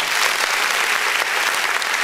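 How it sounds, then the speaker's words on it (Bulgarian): Guests at a Bulgarian pogacha celebration feast applaud with dense, continuous clapping, loud and close, steady for a couple of seconds with no talk over it. "Аплодисменти"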